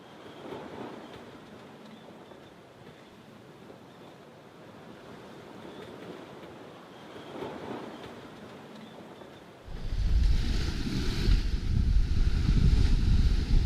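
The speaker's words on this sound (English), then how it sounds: "The waves has come down a bit, so it's a lot more comfortable now than it was last night" Sea waves and wind while sailing a boat across the Caribbean Sea, a steady rushing wash and wind noise that swells into louder, rougher surging near the end.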